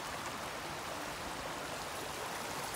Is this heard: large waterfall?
yes